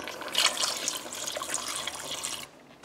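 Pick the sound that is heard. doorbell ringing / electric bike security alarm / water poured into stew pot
water poured into stew pot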